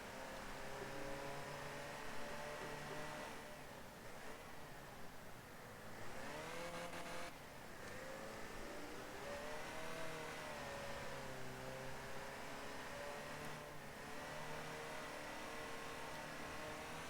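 Race cars run a lap, a steady layered engine drone with shifting pitch as they rise and ease off through the bends, loud and continuous with no talk.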